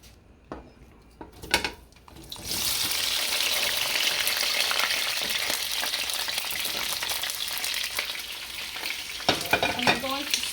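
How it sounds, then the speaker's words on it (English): Onions, tomatoes and spices with bay leaves, mastic and green cardamom start frying and get stirred, a few clinks, then a loud steady sizzle with spoon scrapes against the pot, close up, with no talking. "we're going to stir them until they turn a darker brown"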